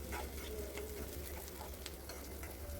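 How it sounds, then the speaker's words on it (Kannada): Sprouted gram fries in a pan while being stirred, a close steady sizzle with soft scraping strokes of the spoon, no talking. "ಮೊಳಕೆ ಕಾಳನ್ನು ಅಷ್ಟೇ ಸ್ವಲ್ಪ ಹಸಿ ವಾಸನೆ ಹೋಗೋ ತನಕ ಚೆನ್ನಾಗಿ ಹುರ್ಕೊಂಡು"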